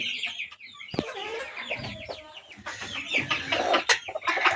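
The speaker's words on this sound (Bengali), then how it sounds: "চীনা হাঁসের বাচ্চা ফুটছে" Newly hatched Chinese duck ducklings on a farm, during heavy rain, keep up a dense chorus of high, rapid peeps. The calls overlap continuously, close and fairly loud, over a rough background.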